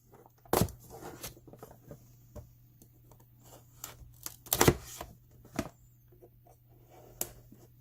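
A small unboxing knife slices through tough tape on a cardboard box, making sharp scratchy cuts and intermittent louder snaps and rips, close up and fairly quiet.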